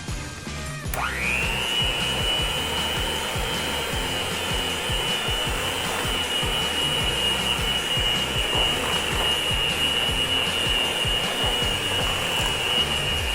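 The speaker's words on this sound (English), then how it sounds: "And then mix again." An electric mixer beats cream cheese cookie dough with granulated sugar, starting with a sudden whir and then holding a steady high motor whine over a rough, churning scrape throughout.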